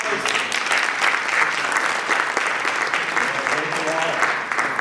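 An audience at a college admissions evening breaks into steady, dense applause for the counselors, a continuous wash of clapping that holds for the full stretch without pause.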